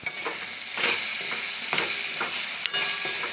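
Bottle gourd cooking in a covered pan for a Bengali lau chhechki, with steady sizzling and frying and a few soft stirring scrapes at a moderate, close level.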